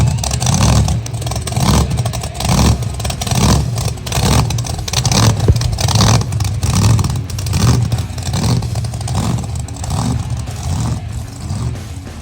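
A 1915 T-bucket hot rod engine revs repeatedly as the car drives up, with loud, rhythmic throttle blips rising and falling over steady engine rumble and no talking.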